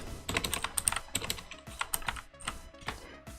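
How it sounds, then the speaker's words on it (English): Rapid, close keystrokes on a computer keyboard in short irregular runs of clicks, moderately loud and with no talk over them. "type in prefetch this time"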